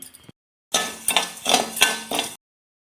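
A cup of raw rice is dry-roasted in a pan for Thiruvathirai kali, heard as a few bursts of spatula scraping and dry grains rattling against the metal, with no talk.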